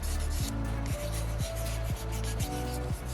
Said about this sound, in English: I really like using my thumb to push that sandpaper around